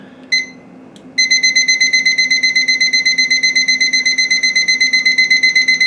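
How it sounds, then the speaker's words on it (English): A kitchen timer set while chili simmers on the stove gives one short chirp, then a steady run of rapid, loud, high-pitched beeps repeating evenly until the end. "Turn on my timer."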